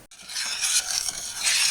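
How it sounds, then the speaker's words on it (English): Christmas candy mix with milk boiling in a pot over medium heat: a steady, close bubbling hiss that swells and fades slightly, with no voices. "our mix is boiling now"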